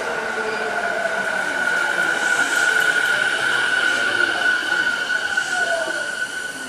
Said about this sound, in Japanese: ここからは京浜東北線で一旦川崎まで行きます。